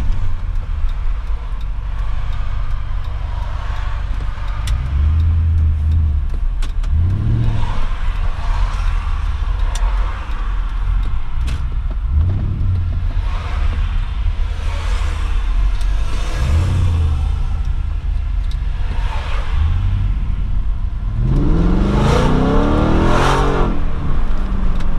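An Audi Allroad 4.2 C5 V8 accelerates repeatedly from inside the cabin. Deep engine drones rise in pitch through several gear pulls, and a strong, rising rev swell comes near the end over a constant low road rumble.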